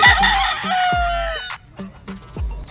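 Roosters and chickens at the Pasig pet market, a poultry market, crow and cluck loudly nearby, with overlapping calls and a long crow near the start.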